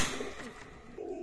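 Pakistani high-flying pigeons in a loft give soft, low cooing calls, quiet and close, in brief murmuring phrases.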